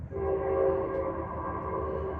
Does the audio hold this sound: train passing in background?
yes